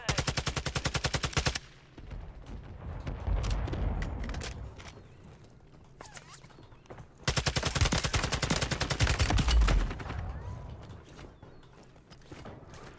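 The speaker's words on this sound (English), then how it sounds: "Who's shooting at me?" Automatic weapon fire in Warzone, a TAQ 56 loadout in play, with long loud rapid bursts and a quieter stretch of scattered shots and movement between them.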